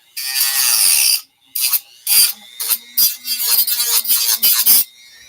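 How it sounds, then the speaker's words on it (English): A high-pitched power tool whines in short bursts, starting and stopping repeatedly with brief silences between, close and loud. "Sorry about the noise, guys, but that's how I have to grind down some of this to get the glass out"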